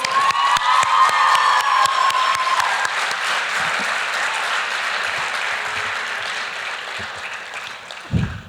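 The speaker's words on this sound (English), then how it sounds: "I think we all deserve a round of applause." A graduation ceremony audience applauds and cheers loudly and continuously, a dense wash of clapping with a voice briefly audible at the start and a thump near the end.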